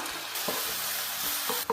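Onion paste sizzles steadily in a hot pan up close, with a utensil scraping and stirring through it in short strokes.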